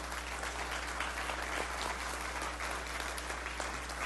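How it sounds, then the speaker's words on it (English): An audience at a campus giving update applauds continuously, a dense, even wash of many hands clapping at moderate distance, steady throughout with no voices on top. "give him a hand."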